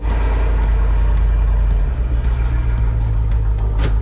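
An imported vehicle drives down through mud, its engine giving a close, steady low rumble that eases slightly partway through, with no talking.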